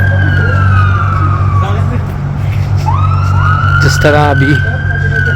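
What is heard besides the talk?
ambulance and fire brigade sirens passing in Toronto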